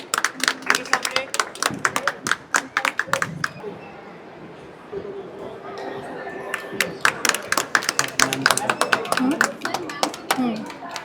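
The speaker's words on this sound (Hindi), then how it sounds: "गाइस तालियां हो जाए जोर।" Audience at an author talk claps for a speaker being welcomed onto the stage. Scattered, sharp claps come in bursts and fade in the middle, then pick up again, with crowd murmur and chatter underneath.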